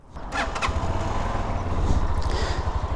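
An Arora MT 125 motorcycle engine cranks with a brief starter whir, then catches and settles into a steady, close, rapid low idle putter, heard alone.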